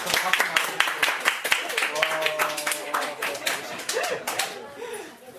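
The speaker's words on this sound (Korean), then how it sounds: "박수 또" A round of hand clapping from a small group, dense and quick, blending with voices and laughter nearby before tapering off.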